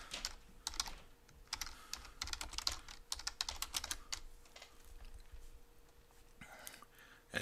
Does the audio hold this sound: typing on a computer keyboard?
yes